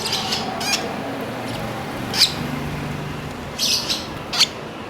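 Pet lovebirds give sharp, shrill squawks and chirps in a few scattered bursts, close by, with a faint background hum and no talking.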